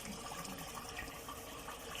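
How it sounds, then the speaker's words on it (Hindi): Four glasses of water are poured into a pot of kebab masala seasoned with salt, chilli, turmeric and whole garam masala, a faint continuous splashing pour with no talk. "अब इसमें हम ऐड करेंगे 4 गिलास पानी।"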